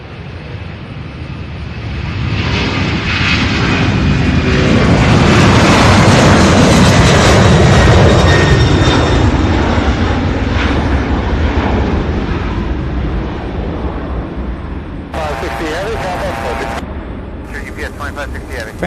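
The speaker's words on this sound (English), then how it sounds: "Fantastic takeoffs, one after the other." Loud jet airplanes, UPS heavies among them, taking off at Louisville SDF airport in August, a long rising and fading roar of engines heard from the ramp, with brief radio chatter near the end.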